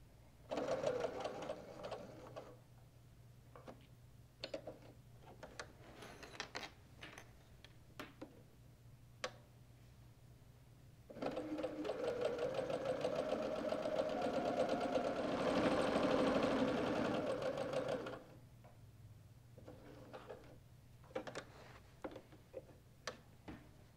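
A sewing machine stitches a log cabin quilted pillow, starting with scattered clicks and short bursts, then a long steady run of stitching in the middle before stopping, ending in more clicks, close and alone.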